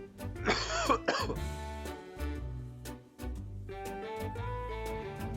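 One person gives a short, harsh cough over gentle background music. Then the music carries on alone.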